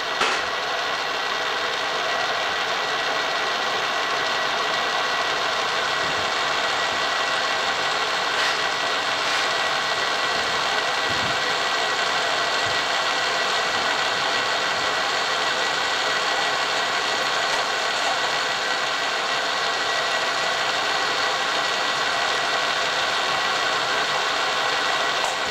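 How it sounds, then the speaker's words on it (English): A power drill whirs continuously at high speed, loud and close, with a steady grinding buzz for the whole stretch and no pauses. "Drill another hole."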